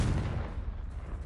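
A Confringo fire spell blast in Hogwarts Legacy, a single heavy booming impact that decays with a rumbling tail over about a second.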